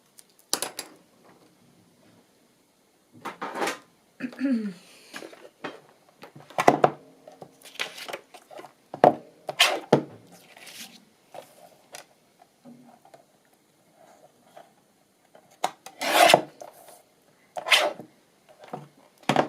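Paper being trimmed by hand for a handmade journal gives irregular crisp snips and light rustles close up, spaced by short quiet gaps.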